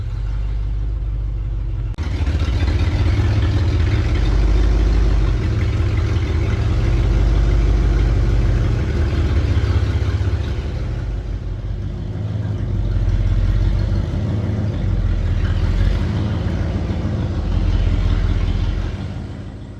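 V8-powered air compressor machine runs and rolls forward in gear, a loud, deep engine rumble that jumps up after a soft start and holds steady with slight swells.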